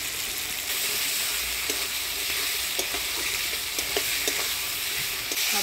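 Ground spices, ginger, cumin, coriander, chili paste, turmeric and fried garlic sizzle in a hot pan as they are stirred, a steady bright hiss with occasional scraping clicks from the spoon.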